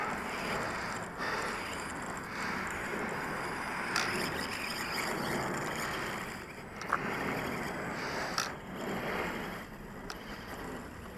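WL Toys A999 RC stunt truck driving across a gravel parking lot, a constant gritty crunch and motor whir with a few sharper knocks over bumps, fairly near.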